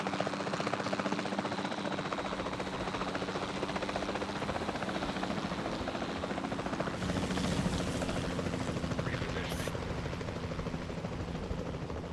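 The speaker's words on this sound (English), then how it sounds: "We'll start by tranquilizing one of the dinosaurs from the helicopter" Helicopter in the video game Jurassic World Evolution 2, a steady close rotor chop and engine drone that continues loud and unbroken throughout, with faint shot-like sounds near the end.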